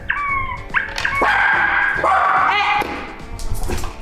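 A dog yips, whines and barks in quick, close, fairly loud bursts while begging for a treat from a gadget, with short pitched whimpers between the louder yaps.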